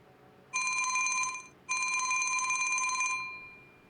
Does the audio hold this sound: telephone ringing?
yes